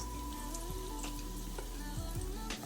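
Pieces of pork for Jamaican-style stew pork hit hot oil in a pan, giving a steady close sizzle with scattered pops and crackles throughout.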